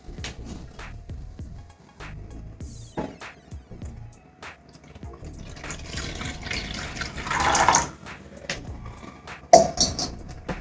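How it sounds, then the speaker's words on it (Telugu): Water poured into a pot for mango rava pulihora, a rising gush and trickle building to a loud close splash, with scattered clinks of utensils before and after. "దీనితో 2 కప్పుల వాటర్ వేసుకోవాలి"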